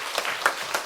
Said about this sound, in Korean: 우리를 복 주신 하나님께 영광의 박수 한번 돌리겠습니다